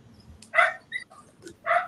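A dog barks from outside a door, giving three short muffled barks with gaps between them, heard at a moderate distance with no talking over them.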